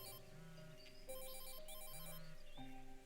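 A telephone rings in a repeating electronic ringtone pattern of pulsing tones with short gaps, quiet and continuous throughout.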